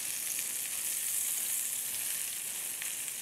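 Eggplant slices frying in a pan of hot oil give off a steady, bright crackling sizzle that carries on evenly for a few seconds, close by and with no voices over it.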